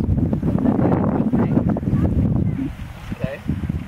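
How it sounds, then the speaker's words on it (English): Gusty wind buffets the microphone outdoors at a family rocket launch, a steady low rumble running throughout while people talk nearby. "We're gonna wait for the wind to die down."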